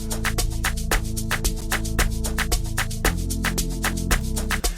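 Amapiano beat built in Caustic 3 with a synth lead riding over steady kicks, hi-hats and sustained bass, loud and continuous with a clear rhythmic pulse throughout, no voices.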